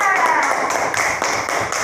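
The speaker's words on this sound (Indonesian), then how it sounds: "Tepuk tangan dulu untuk Indra" A classroom of students claps for their classmate Indra, a brief, busy patter of many hands at close range, with a voice mixed in.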